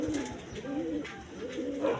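Soft, low racing pigeon coos repeat in a steady rolling rhythm, close by, with a light murmur of other birds behind.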